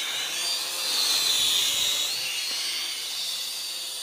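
An Eachine E708 Cyclone 225mm beginner quadcopter in flight, its motors producing a steady high-pitched whine that swells briefly in the middle and then settles, heard alone without voices.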